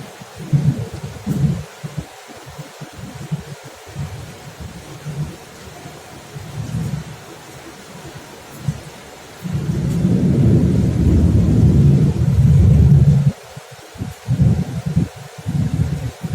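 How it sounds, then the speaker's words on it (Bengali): Steady rain with low, rumbling thunder that grows into a long, loud roll in the middle before subsiding back to patter and distant rumbles. "এই সময় বাইরে ভালো বৃষ্টি হচ্ছে"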